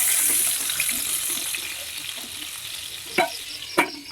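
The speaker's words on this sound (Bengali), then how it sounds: "তেলটা গরম হয়ে গেছে এখন আমি মাথাটা দিয়ে দিয়েছি" A salted, turmeric-rubbed rohu fish head fries in hot oil with a soft, steady sizzle, nearby and moderate, broken by two sharp clattering knocks near the end.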